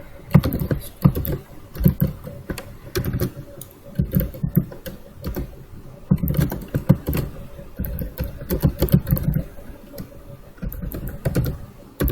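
Rapid typing on a computer keyboard while entering book and author names into a database, with dense bursts of key clicks and brief pauses between words, close and clear, and no speech over it.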